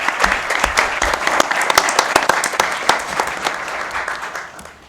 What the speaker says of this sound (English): So round of applause one more time.